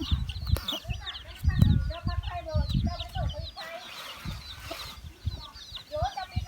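Hens cluck repeatedly in a busy chorus, with chirpy calls layered over thumping, rustling noises close by, as black sticky rice is pounded and husks are thrown to ducks and chickens.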